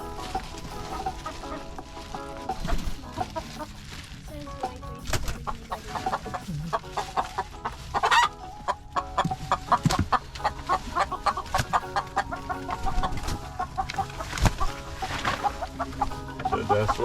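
Farm chickens cluck and squawk in a busy, overlapping flock, with irregular bursts rising over a steady background of activity.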